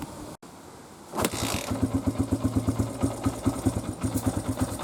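Honda XR100R street-legal motorcycle, cold, starts after a short quiet pause, then settles into a lumpy, uneven idle with a rapid pulsing thump, close by.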